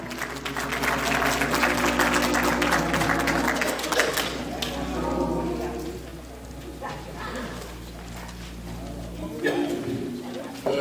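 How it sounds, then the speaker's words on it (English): A church congregation claps and cheers loudly for an arriving guest, a dense wash of applause and shouts over a steady low hum that thins out midway as voices carry on talking. "Let's cheer him as he comes"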